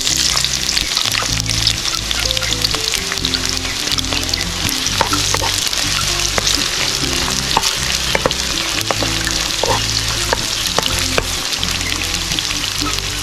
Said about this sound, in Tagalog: Sunod na natin na sibuyas guys.